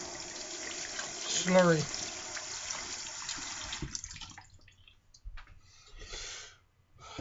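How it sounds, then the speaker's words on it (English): Plain water running over a Coticule sharpening stone as it is rinsed clean, a steady splashing stream with a brief gurgling burst early on, quieter trickles later, and someone talking over it. "what I'm going to do now is actually rinse this stone completely clean"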